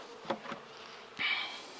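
Honey bees buzzing around a hive frame as it is brushed off for honey harvesting, a close, steady insect drone with brief louder swells, no voices.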